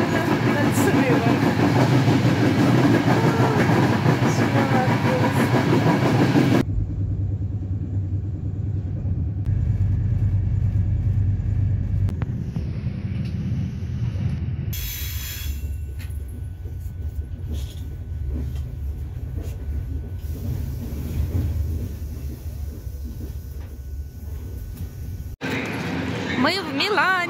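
Steady low rumble of a train carriage in motion, on a train arriving in Milan, with rattling and clatter throughout and occasional muffled voices in the background.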